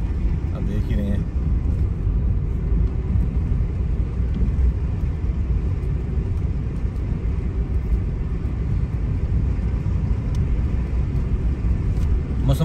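A car drives through open countryside near Halifax with its windows rolled down, giving a steady, close low rumble of road and wind noise that continues unbroken throughout.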